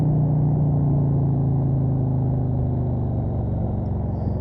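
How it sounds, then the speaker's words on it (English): A motorcycle carving a turn on the Catalina Highway up Mount Lemmon, heard as a steady, loud, low rumble of engine and tire hum that holds throughout. "the sound of tires humming through a perfectly carved turn"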